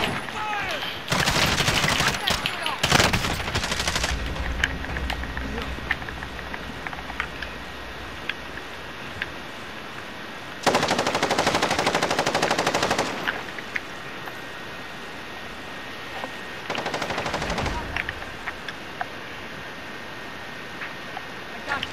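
Gunfire in Call of Duty Warzone, with several loud bursts of rapid automatic shots separated by quieter stretches of game ambience and occasional single pops.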